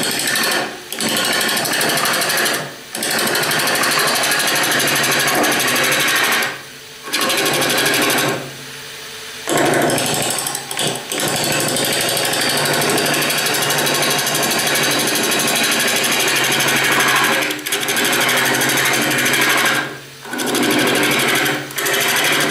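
A roughing gouge cuts a spinning wooden goblet on a lathe, producing a loud, continuous scraping rasp that drops out briefly in a few short gaps before resuming.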